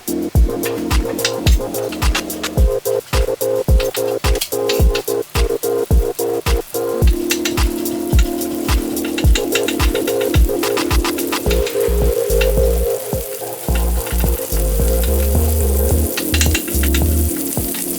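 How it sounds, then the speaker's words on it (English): Butter sizzling loudly and steadily in a hot pan at the start of a bacon jam, with a dense crackling hiss and frequent popping spatters throughout. "I'll put the butter in."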